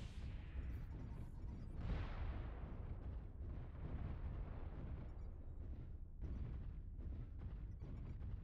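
Missiles blowing up in a mech combat video game, a continuous barrage of deep, rumbling blasts and booms that overlap with no pauses, loud and close throughout.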